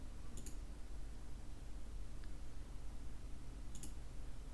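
Mouse clicks on a button in Arduino control software for a TB6600 stepper driver, a couple of faint, sharp clicks against a steady low hum.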